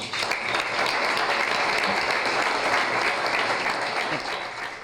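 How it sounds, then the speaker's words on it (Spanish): Dense, steady applause from an audience packed into Barrio Sur Café Bar, a sustained wash of many hands clapping at once that holds at a constant level throughout. "Un aplauso, por favor."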